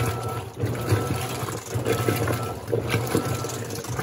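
Electrolux washing machine with jet and impeller system agitating water, a continuous sloshing churn with a low motor hum, surging in uneven waves at close range.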